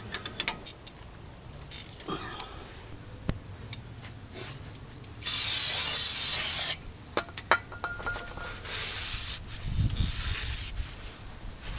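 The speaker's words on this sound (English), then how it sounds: "I'm just giving it one more quick spray of the brake cleaner to eliminate some of my handprints off that surface of the rotor" Brake cleaner sprayed onto the rear brake rotor of a 2004 Chevy Silverado, a single loud hissing burst lasting about a second and a half amid quieter clanks and handling noises of brake work.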